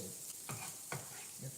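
A frittata frying in a pan, heard as a steady broadband sizzle with a few soft scraping stirs spaced across the short stretch, close and fairly quiet.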